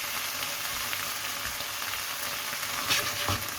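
Food seasoned with black pepper sizzles and fries in a pan, a steady close crackling hiss with brief stirring clatter near the end, no talking.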